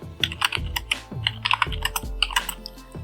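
Fast typing of JavaScript code on a computer keyboard, a close, crisp run of key clicks with irregular rhythm and a few heavier thumps from the larger keys, no voice.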